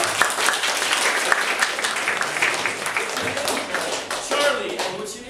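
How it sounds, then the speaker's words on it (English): A live comedy show audience claps in a sustained round of applause, crisp and moderately loud, with a few voices and a cheer mixed in toward the end. "Give them a big round of applause."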